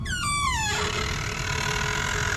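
Bathroom door creaking partly open in a horror tale, a rising squeaky creak lasting under a second, then a low steady rumble of ambience carrying on underneath.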